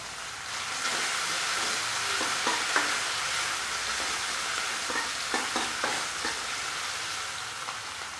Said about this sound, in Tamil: சேர்த்து நல்லா கிண்டி விட்டுக்குவோம். இது பாருங்கள் வதங்குது.